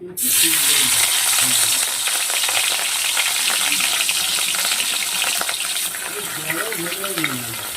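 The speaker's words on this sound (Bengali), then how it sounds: "তেলটা গরম হয়ে গেছে মাছগুলোকে ভেজে নিই" Loud, steady sizzle of rohu fish frying in hot oil, a dense crackling hiss that fills the whole clip with scattered pops and faint background voices.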